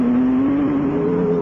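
A race car held at full throttle on a motorsport circuit, its engine a loud, steady high-pitched roar that holds a constant note close by for the whole stretch, with no voices over it.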